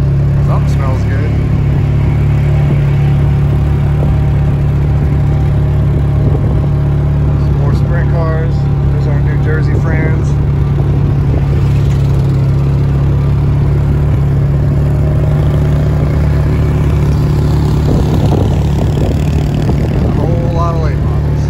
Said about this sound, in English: We'll give you some sights and sounds of the pits while we're driving